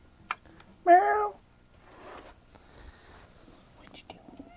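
A cat gives one short, clear meow close by in a home kitchen where salmon is being pressure canned, followed by quiet rustling and soft whispery noises.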